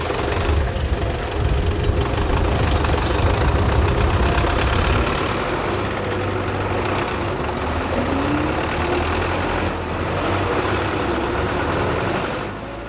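A tractor engine runs steadily nearby, a loud, continuous low rumble with a rough knocking texture that holds for the whole stretch, no voices heard.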